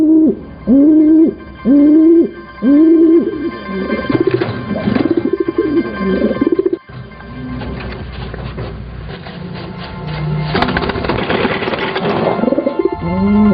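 Pigeons in a Taiwanese racing loft coo in repeated rising-falling hoots, several close calls in rhythmic bursts, then blend into a denser layer of overlapping cooing and rustling with no talk.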